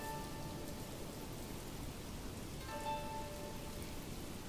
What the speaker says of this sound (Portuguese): Isso é chuva de verão, galera.